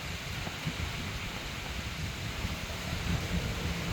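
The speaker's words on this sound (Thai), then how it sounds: "ฝนมันก็ตกนะครับ" Rain falls steadily outside a rented room during the hot season, a soft continuous hiss with a low rumbling wind-like undertone, moderately faint and unbroken, with no voices.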